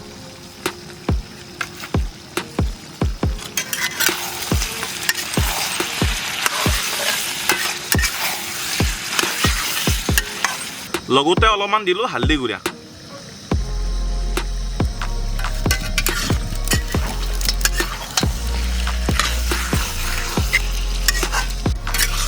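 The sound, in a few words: mutton frying with ginger garlic paste and spices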